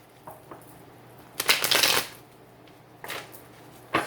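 A Steampunk Tarot deck is shuffled in close, papery riffling bursts, with a long flurry in the middle and shorter flicks before and after it, and no voice over them.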